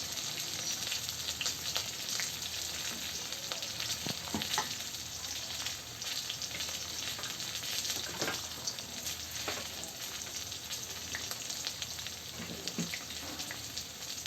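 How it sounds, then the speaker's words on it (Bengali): Potatoes fry in hot oil for a fish curry with vegetables, giving a steady, dense sizzle throughout with occasional soft stirring scrapes and no talking. "তো আলুটা ভালো করে ভেজে নিলাম।"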